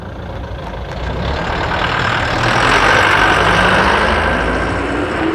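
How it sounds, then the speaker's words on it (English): A truck-like heavy engine rumbles steadily outdoors in a natural setting, growing slightly louder as the vehicle approaches and holding a continuous low drone throughout. "you can see that there's a vehicle coming"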